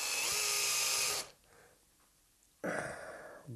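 A power drill whines loudly as a drilled hole in metal is chamfered freehand over a rubber mat, with a sharp burst, a pause, then a second shorter burst.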